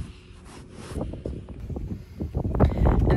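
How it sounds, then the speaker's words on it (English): Wind gusting outdoors on a farm in cold weather, a rough, rushing buffeting that swells louder toward the end, close on the microphone with no talk. "And the wind is still blowing today."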